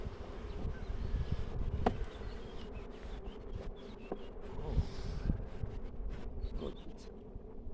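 Honeybees from nucleus colonies buzz steadily around hive frames being inspected during a rapeseed bloom, a dense continuous drone close by with occasional louder passes of individual bees and light handling noises.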